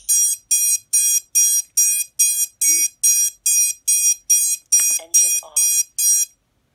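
A loud, high electronic beep from a drone's ESC in beeper mode repeats about twice a second in an even series of around thirteen tones, with brief faint sounds in the background.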